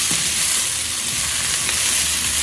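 Southern breakfast skillet potatoes fry in a pan, giving a loud, close, continuous sizzle and crackle that runs without a break.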